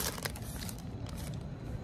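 A plastic bag is rustled while being unpacked, producing close, dense crinkling and crushing noise that continues steadily throughout.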